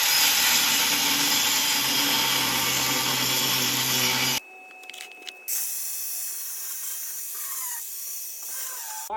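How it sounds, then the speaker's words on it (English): Power tool cutting a bevel on a metal boat part in a welding shop, a loud, harsh, continuous grinding for about four seconds that stops dead, leaving faint background noise. "Now I'm going to cut us a bevel, and we'll start welding it up."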